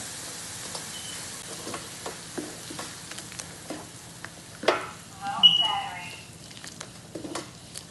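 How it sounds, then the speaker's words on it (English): Crushed tomatoes cook down in a pot for a vegetable stew, giving a soft bubbling sizzle with scattered clinks and stirring knocks and a brief louder scrape in the middle, with no one talking. "I'm going to cook it down before adding it to the meat."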